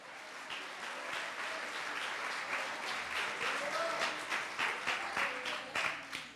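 A church congregation applauds during a sermon, a steady, fairly faint wash of clapping with some individual claps standing out and a few raised voices mixed in.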